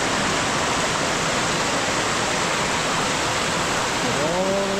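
Clear water pours out of a cave entrance near Decorah, Iowa, making a steady, loud, broadband rush like a small waterfall that fills the whole clip, with a faint tonal voice-like sound near the end.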